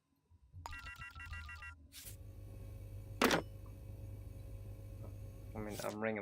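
An in-game telephone rings in the detective game Shadows of Doubt, with short repeated electronic trill bursts at moderate level over a constant low ambient hum, plus a few sharp clicks and a brief tonal burst near the end.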